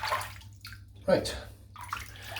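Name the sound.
rinsing a razor under running water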